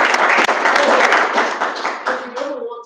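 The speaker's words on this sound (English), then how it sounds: "Why don't we give him a round of applause here" Applause from a data science workshop audience, a moderate wash of clapping in a small room that thins toward the end as a voice starts to speak over it.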